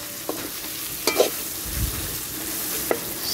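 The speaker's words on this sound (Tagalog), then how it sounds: "I stir fry it already with the onion, garlic, and black pepper." Fish stir-frying with onion, garlic and black pepper sizzles steadily in a pan, with a few sharp scraping stirs and clinks of a utensil close by.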